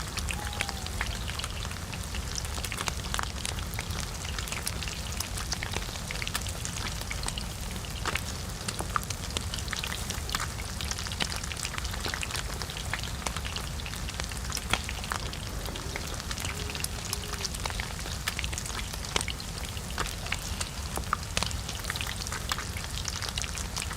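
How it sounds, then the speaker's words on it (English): Rain falling in the video game DayZ, a steady patter of many small drops hitting surfaces, sustained and even at moderate loudness for the whole stretch with no talk. "Is that rain I hear?"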